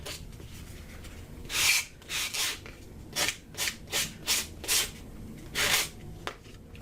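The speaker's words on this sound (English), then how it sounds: "first I need to go ahead and see if I can find my sander and sand this edge off." A sander rubs along the edge of a handmade journal cover in a run of short, raspy bursts, about ten strokes, close and fairly loud over a quiet room.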